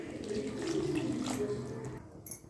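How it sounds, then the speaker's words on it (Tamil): Water is poured into a simmering curry (pachai puli with kalakottai) in a home kitchen, a continuous soft splashing pour lasting about two seconds, then a small clink at the end. "இன்னும் கொஞ்சம் தண்ணி ஊற்றிக்கலாம்."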